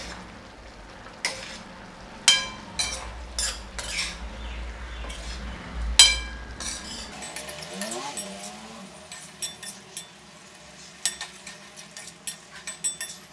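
Spoon stirring a cauliflower and peas curry with garam masala in a pan, a run of close, sharp metal scrapes and clinks over a low sizzle, then quieter clattering stirs as the cooking continues.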